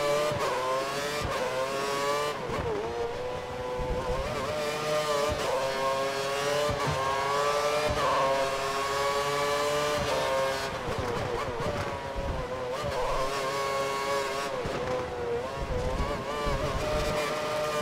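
Formula 1 cars in the F1 2013 video game, including a Renault, race around the Marina Bay street circuit in Singapore. Engines whine and rise through the gears in repeated high-revving sweeps, with brief drops between shifts, loud and continuous with no voice.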